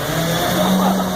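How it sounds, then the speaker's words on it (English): A garbage truck passes close by outside, its engine a loud, steady rumble with a sustained low hum throughout, alone without talk. "Pause for garbage truck."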